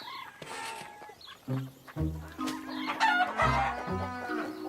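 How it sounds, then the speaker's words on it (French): Chickens cluck and squawk in a lively, close chorus, with a rooster's crow rising among the overlapping calls, in a children's cartoon. "Je parie que c'est la première fois que tu vas nourrir des poules, Caillou."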